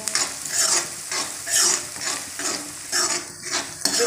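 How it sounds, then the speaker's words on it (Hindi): Onions fry until brown in a pan for tomato chutney, sizzling with rhythmic stirring strokes that come in regular pulses, close and fairly loud, with no voices. "देखो ये प्याज ना ब्राउन हो गए हैं"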